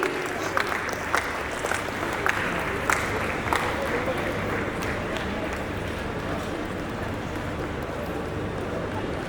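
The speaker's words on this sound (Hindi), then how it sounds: "जोरदार ताली हो जाए हमारे सारे को स्पॉन्सर्स के लिए" Crowd applause at a business expo stage event honoring sponsors, a steady wash of many hands clapping with a few sharper individual claps standing out, continuing throughout at moderate level.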